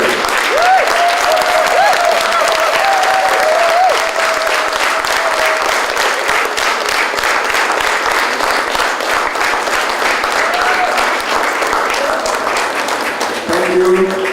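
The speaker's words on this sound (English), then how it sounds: "So I'd like everybody in the auditorium to stand and recognize with a thundering applause the work of these people." Loud, sustained thundering applause from a standing auditorium audience at an awards ceremony, a dense unbroken wash of clapping that holds steady throughout, with faint voices beneath.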